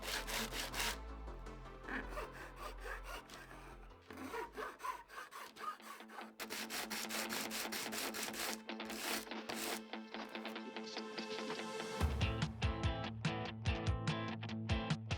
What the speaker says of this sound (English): This needs to be removed using a file or some sanding paper.